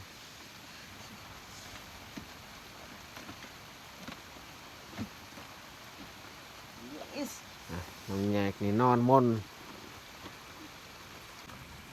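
Steady rain falls at night over a farm field, a soft, even hiss that continues throughout, with a person's quiet speech breaking in near the end.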